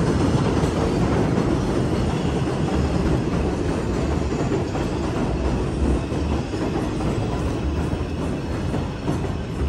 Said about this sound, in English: Again, train.